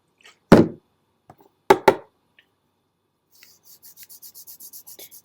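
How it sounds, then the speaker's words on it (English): Rubbing alcohol wiped over a glitter epoxy pen to clear dust, giving a few short scrubbing rubs and soft taps, then a quick run of light, regular squeaky strokes near the end, close and alone. "I'm just going to wipe it down with some rubbing alcohol just to kind of get all of that"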